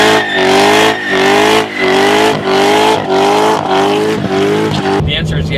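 A 2015 Chevrolet Corvette Z06 with a manual transmission does a burnout, its engine revving hard in a series of about six rising surges with brief dips between them, loud and close, before it cuts off near the end.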